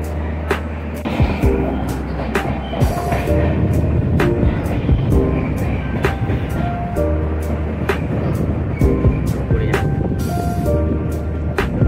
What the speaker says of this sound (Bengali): ট্রেন যাবে এবারে ডিজেল ইঞ্জিনে